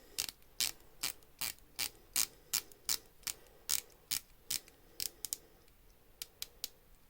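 Ratcheting bezel on a Heimdallr dive watch being turned, giving a steady series of about twenty crisp, close mechanical clicks in an even rhythm, a few closer together near the end, with no voices.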